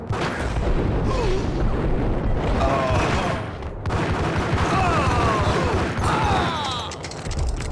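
Repeated heavy booms and blasts from grenades in Max Payne on PS5/PS2, loud and continuous with gunfire-like crackle, a brief lull near four seconds, then more explosions.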